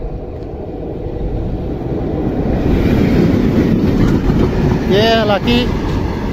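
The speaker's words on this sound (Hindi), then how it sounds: "रेल का इंजन आता हुआ और ये फिर जाएगा खरखड़ा की तरफ" A railway locomotive approaches on a rural line under construction, a steady loud rumble building over several seconds, with a brief horn near the end and someone talking over it.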